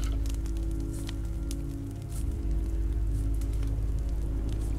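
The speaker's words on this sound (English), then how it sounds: "This rain will turn to sleet." Rain patters and drips on surfaces in The Walking Dead video game, a steady close shower of small taps over a low humming background, with no one speaking.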